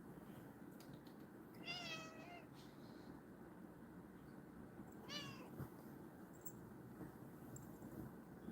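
A kitten meows indoors, two clear drawn-out cries a few seconds apart over a steady low background hum, fairly close and with no talking.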